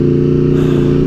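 An Aprilia RSV4 motorcycle engine revs loud and close, a steady high-pitched buzzing drone holding for about a second.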